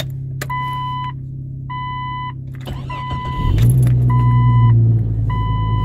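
A Jeep's starter cranks briefly on a cold start and the engine catches, settling into a loud, steady idle rumble; faint repeated beeps chime in the background.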